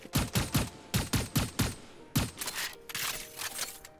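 The Ghost pistol with the Xerofang skin fires in Valorant: a quick run of about eight sharp, loud single shots in a steady rhythm, followed by softer mechanical handling sounds. There is no talking.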